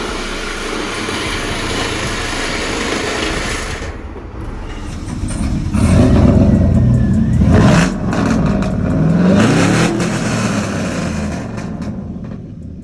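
A 2016 Dodge Charger with a 3.6L V6, dual exhaust and a muffler delete idles with a loud, raspy drone, then revs hard twice in quick succession, each rise swelling and falling back toward idle, with no talking.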